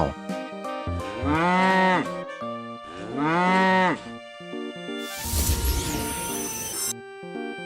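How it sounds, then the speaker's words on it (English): A toy cow sounds two long, loud moos separated by a short pause, set against a bright jingling tune, with a burst of noisy clatter near the end. "Cow."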